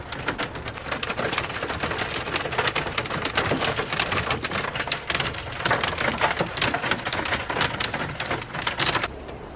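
Steady heavy thunderstorm rain hisses continuously across the whole stretch, dense and close, with no voices and occasional bird calls faintly mixed in.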